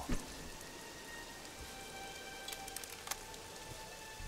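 Steady rain in The Witcher 2, a constant even hiss of falling drops with a few brief louder splashes, no talk over it.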